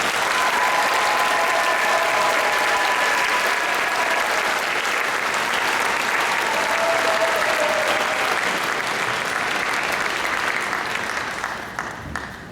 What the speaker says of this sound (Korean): 우리 서상정 목사님 오실 때 뜨겁게 환영의 박수 부탁드리겠습니다